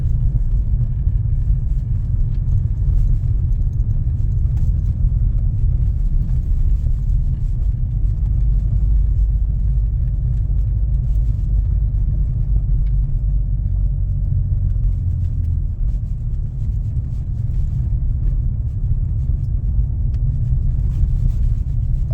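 A car cruises along a well-kept road at about 20 mph, its steady low rumble of engine and road noise continuous throughout with no talking.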